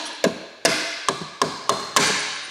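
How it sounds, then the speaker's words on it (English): A screwdriver knocks out the punch-out holes on an electrical box in a camper van electrical build, six sharp metallic taps at an uneven pace, close and fairly loud, each followed by a brief ringing decay. "just take a screwdriver or something and just knock some of those out"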